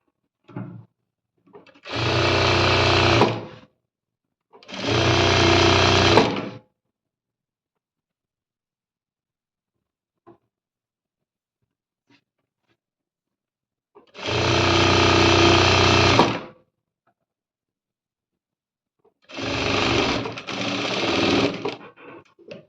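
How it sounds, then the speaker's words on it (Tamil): Sewing machine stitching a puff sleeve blouse, four separate loud bursts of fast needle whirring, each a second or two long, separated by near silence. "இது முடிஞ்சதுக்கப்புறமா நம்ம எப்பயும் போல் படிமான தையல் வந்து போட்டுடுறோம்"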